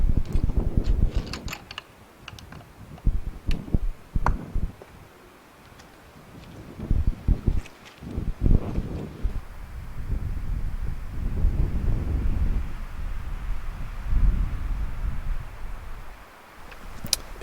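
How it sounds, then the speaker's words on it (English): Strong wind buffets an open outdoor setting in Ireland during a fox-calling outing, roaring in loud, uneven gusts with low rumbling surges that swell and ease across the whole stretch, no talk heard. "Conditions are no easier with the wind still up"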